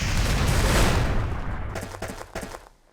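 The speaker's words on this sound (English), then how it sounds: "He then grabs hold of Onikage and jumps off the cliff into an explosion." A large explosion in the video game Tenchu: Wrath of Heaven, heard as a loud, sustained roaring blast that rumbles for about two seconds, followed by a few sharp crackling pops as it fades.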